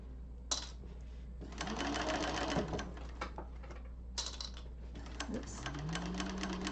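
A free arm cylinder-arm sewing machine stitches in close, loud bursts of rapid mechanical chatter separated by pauses, with a person talking alongside it in a sewing class.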